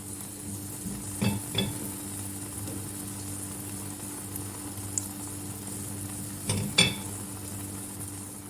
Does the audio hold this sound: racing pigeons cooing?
no